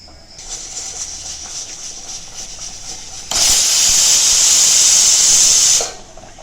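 A pressure cooker's whistle lets out a steady hiss of steam, then bursts into a louder, sharper release of steam for a few seconds before cutting off.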